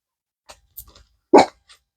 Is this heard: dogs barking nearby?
yes